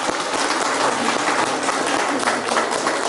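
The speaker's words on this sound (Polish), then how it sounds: "Wielkie brawa dla Państwa." Audience applause at a Polish community event, continuous dense clapping from a crowd, even and sustained for about three seconds without pause.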